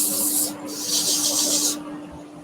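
Sandpaper rubs against turned timber spinning on a lathe, giving two bursts of bright, close rasping hiss with a brief break between them over a steady motor hum.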